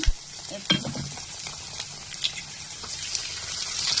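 Eggs dropped into chicken masala frying in a pan set off a loud burst of sizzling, followed by steady crackling and occasional stirring scrapes throughout.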